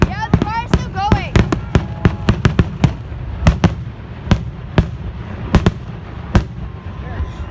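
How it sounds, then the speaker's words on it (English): Fireworks bursting at a Fourth of July show, a rapid string of sharp, loud bangs and crackles at uneven intervals, some close together and others spaced apart, with people's voices heard in between. "You like that firework right now?"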